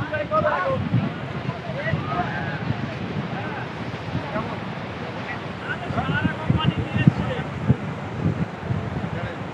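Rough sea waves wash onto the beach at Mandarmani, a steady broad roar with wind buffeting the microphone, while people talk close by over the surf.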